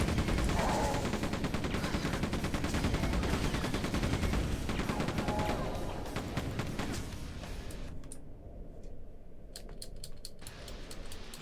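Rapid automatic gunfire in Quake 2, a dense, fast rattling stream of shots that fades out partway through, followed by a few sparse clicks and taps.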